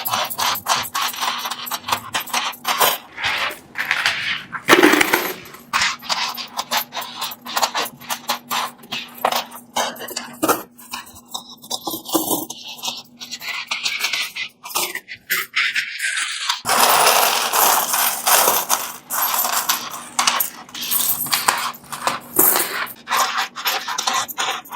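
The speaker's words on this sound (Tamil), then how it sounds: "எல்லாமே இலங்கையினுடைய நாணயங்கள், 10 ரூபாய் நாணய குட்டிகள்." Sri Lankan 10 rupee coins are poured out and sorted by hand, producing continuous metallic clinking, scraping and rattling in close, busy bursts, with brief pauses between handfuls.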